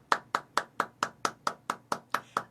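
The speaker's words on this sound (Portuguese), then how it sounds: "a aplaudir o Senhor, palmas para Ele" Slow, steady hand clapping from a single person during a church worship service, about ten crisp, evenly spaced claps ringing out close and clear with no talking.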